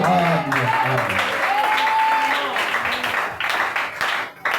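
A church congregation clapping and cheering in praise, a dense wash of applause with voices calling out over it, strong at first and thinning toward the end.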